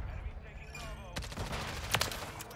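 A few sharp gunshots from an ACR rifle fitted with the JAK conversion kit in Call of Duty: Modern Warfare 3, two distinct cracks standing out over a low, steady bed of game ambience.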